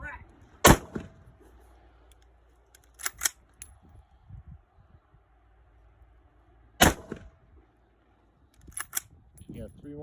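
Sharp, loud gunshots from a pistol set up to run with a suppressor, fired unsuppressed for a muzzle flash test, each needing a manual cycle: two close pairs of reports a few seconds apart with quiet gaps between.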